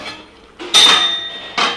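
Boiled tapioca is drained from a cooking pot for a prawn and tapioca olan. Close metallic clanks and clinks sound as the pot and lid are handled, with a short ringing tone and two louder bursts of clatter.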